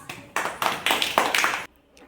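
Children clapping together in a Telugu classroom, several short rhythmic bursts of claps in quick succession, close and fairly loud, ending abruptly into near quiet.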